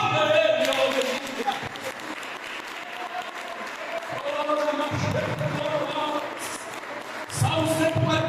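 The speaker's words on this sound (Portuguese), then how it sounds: "Aplauda ele." Church congregation claps for a speaker during a service, moderate applause mixed with voices and music tones, swelling louder in bursts near the middle and end.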